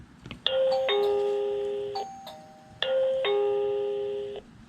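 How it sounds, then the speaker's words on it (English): A MECO Eleverde J5 smart video intercom chimes its doorbell, two clear multi-tone ding-dong phrases ringing out one after another, close and loud with no talking. "Press the bell button and tap next."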